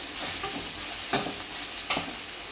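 Ridge gourd coated in gram flour powder fries over a low flame, a moderate steady sizzle marked by two sharp clacks of a spatula against the pan.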